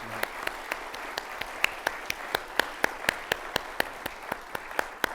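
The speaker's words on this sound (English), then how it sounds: "I wish we could all give them another round of applause" Applause at a business leadership award ceremony, heard as a fairly quiet, close stream of crisp claps, mostly from one or a few pairs of hands, beating at an even pace.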